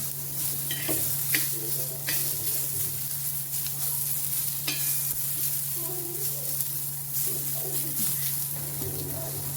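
Onions are shallow fried in oil for an egg curry, giving a continuous close sizzle with occasional stirring scrapes and clicks, while a faint steady hum and distant bird coos sit in the background.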